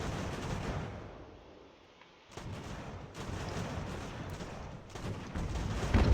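Rolling booms and crackling volleys from artillery and musket fire in the strategy game Ultimate General: American Revolution. They form a dense, continuous battle din that dips briefly and then swells again, heard from a moderate distance with no talking.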